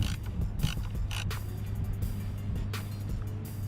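A wrench loosening the positive battery terminal on a Chevy Impala with a 2.5L Ecotec engine, giving close, irregular metallic clicks and ratcheting creaks over a low background hum.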